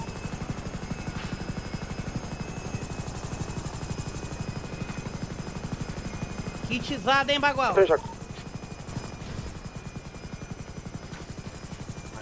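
A helicopter in a GTA roleplay video game drones with a steady rapid rotor buzz throughout, close and continuous, while someone speaks over it and a brief whistle-like sound rises midway.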